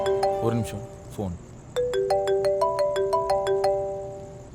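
A mobile phone ringtone plays a repeating melodic pattern of bright, evenly spaced tones, loud and close, after a brief stretch of talk at the start.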